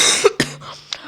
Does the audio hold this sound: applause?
no